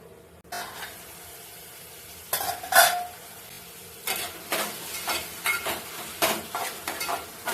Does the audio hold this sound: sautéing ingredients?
yes